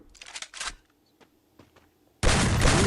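Gunfire in the mobile game Free Fire: a couple of quick rattling bursts, a few faint isolated pops, then a loud sustained burst of shots at the end.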